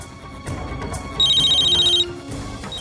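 A telephone rings with a steady repeating electronic ringtone, an incoming call from dad, sounding for about a second above faint room ambience and background music.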